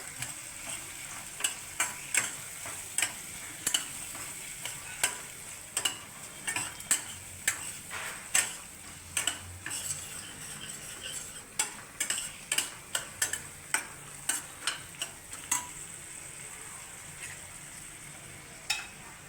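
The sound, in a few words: stirring potol dolma filling in a pan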